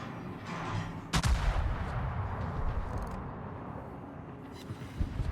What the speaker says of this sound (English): Why are you firing high explosive at an emerald?